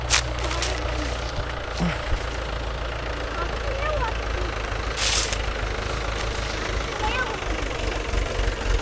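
A Mahindra Yuvo Tech Plus 585 4WD shuttle-gear tractor engine runs steadily in a field, a continuous low rumble throughout with brief mechanical clanks and people talking over it.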